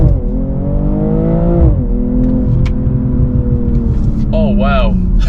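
A BMW G42 M240i with all-wheel drive launches hard under launch control in Sport Plus with stability control off, its engine note climbing steadily, dipping at a gear change, then pulling on, loud and close with a voice exclaiming over it.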